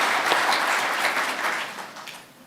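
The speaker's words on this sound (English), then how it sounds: "I think that deserves a clap" An audience applauds a deputy governor of the Cayman Islands at a public gathering, a dense wash of many hands clapping at once, steady at first and then tapering off toward the end.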